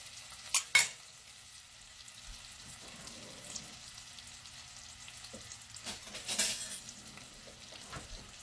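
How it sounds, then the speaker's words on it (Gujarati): Long green chilies and ginger-chili-garlic paste sauté in a pan for aloo mutter sabji, a low, steady sizzle with a few brief louder stirring scrapes near the start and toward the end. "અને આદુ મરચાં લસણની પેસ્ટ. આ બધાને આપણે સરખું સોંતે થવા દઈશું."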